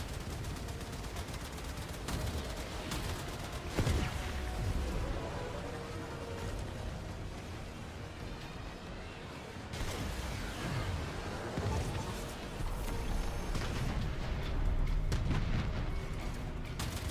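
Weapons firing a full salvo in a video game battle: a dense, continuous barrage of rapid shots and booming blasts that stays loud throughout, with brief surges, and faint voices under the roar.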